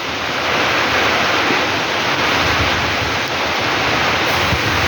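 A typhoon under signal no. 1 brings strong wind and heavy rain, heard as a loud, steady roar of broadband rushing noise that continues without letup.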